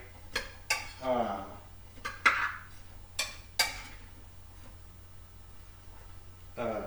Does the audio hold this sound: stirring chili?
yes